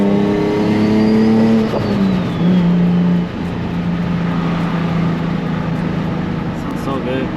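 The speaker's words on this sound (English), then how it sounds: "we can definitely make some, hear some turbo noises" A street-tuned turbocharged Nissan 350Z engine drones and revs up and down loudly from inside the car, with a rising turbo whine and shifting pitch.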